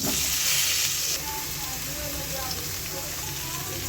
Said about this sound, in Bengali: এখন বেগুনটা একটু ভাজা করে নেব